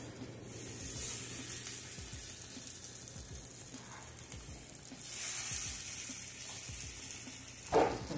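Ukrainian syrniki, farmer's cheese pancakes, sizzle in coconut oil in a pan over low-medium heat, a steady close frying hiss that swells as more batter or oil goes in, with soft scraping and handling noises and no talk.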